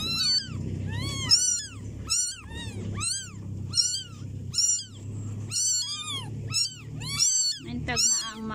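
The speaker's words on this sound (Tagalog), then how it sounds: "Subukan kong padidihin yung mga pusa na nadampot ko kanina." Small kittens meow repeatedly, about ten rising and falling cries in an irregular rhythm, close and fairly loud, with a person's voice murmuring softly beneath them.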